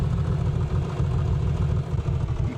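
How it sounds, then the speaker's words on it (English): Low, uneven idle of an aircraft piston engine with a weak, misfiring cylinder in a flight simulator, a steady rough rumble with irregular stumbles and clattering pulses, loud and close with no voices. "You can see and hear that cylinder misfiring."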